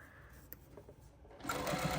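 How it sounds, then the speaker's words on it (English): Patchwork skirt fabric runs through a sewing machine: a soft, uneven whir at first that swells into a louder, steady close-up stitching run for the last half-second of the clip. "Make sure you're only sewing this one side."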